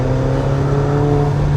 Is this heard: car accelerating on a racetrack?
yes